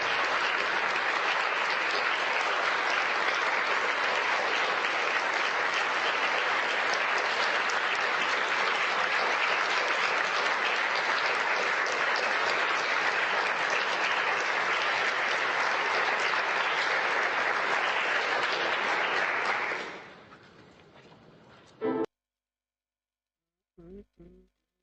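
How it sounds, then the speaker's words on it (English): A crowd claps steadily and loudly for about twenty seconds, then the applause fades out, followed by a couple of brief thumps. "Let's give it a clap, you know."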